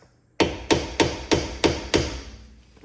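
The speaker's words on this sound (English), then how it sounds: "big tipped Phillips and just a hammer here to give it a couple firm taps." A hammer strikes a big-tipped Phillips screwdriver seated in a brake rotor screw on a Porsche Cayman/Boxster 987, six firm metallic taps at an even rhythm, close and loud, each ringing briefly before the next.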